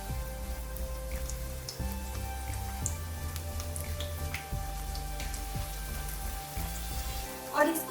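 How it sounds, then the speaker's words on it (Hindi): Two or three chicken lollipop pieces deep frying in hot oil over a medium flame, giving a steady, close crackling sizzle with scattered pops throughout. "बस 2 या 3 डाल के इसको अच्छे से फ्राई कर लेंगे"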